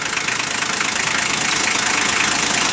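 A 1984 Toyota FJ60 with a diesel conversion idles steadily and evenly, a close, continuous clattering hum with no voices over it.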